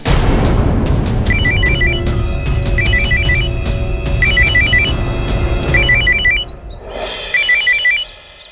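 A mobile phone rings loudly in a forest, its electronic ringtone melody repeating in short patterned bursts over a dense rumbling backdrop before cutting off near the end.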